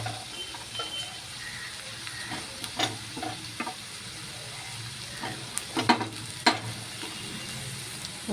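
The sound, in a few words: bitter gourd pieces frying in a pan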